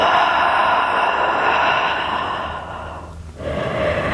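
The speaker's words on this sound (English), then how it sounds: "nice long exhale through the mouth. We inhale and exhale." A long exhale through the mouth during morning yoga breathing, a broad breathy rush that holds steady for several seconds, fades, then briefly rises again, close and alone.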